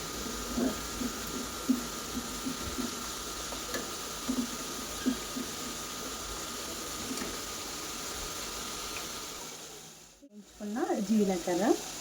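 Amla pickle ingredients frying in a pan give a soft steady sizzle with occasional small pops under quiet background noise, then a brief pause and some faint handling sounds near the end.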